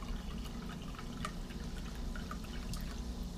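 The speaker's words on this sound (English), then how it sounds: "it's bubbling up a little bit more when I pour it" Natural sparkling mineral water poured into a hotel cup, a steady close fizzing and trickling pour with faint bubbling pops throughout.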